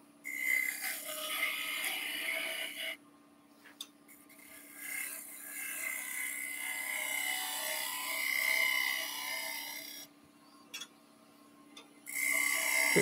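A wooden folding bauble is shaped on a lathe, giving a steady, close rasping scrape of the cutting tool against the spinning wood, broken by brief pauses where the tool lifts off.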